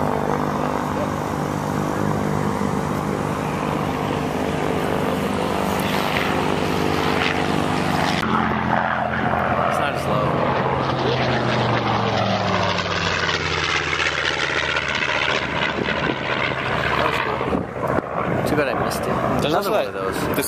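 A Sukhoi aircraft's engine starts, running loud and steady, then its pitch shifts and winds through changes as the engine spools, with people talking nearby at an air show.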